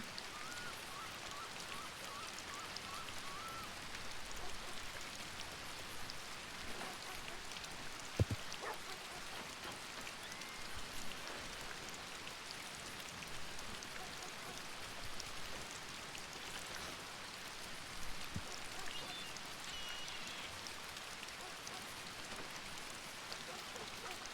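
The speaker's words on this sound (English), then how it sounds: "I'm waiting inside. It's raining." Steady rain patters on surfaces in a video game ranch setting, a constant hiss running alone throughout with a couple of sharp drip-like ticks.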